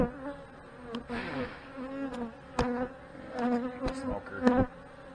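Honey bees buzz around a hive during an early-morning inspection, close-up droning with wavering pitch and loudness, broken by a few sharp clicks and knocks.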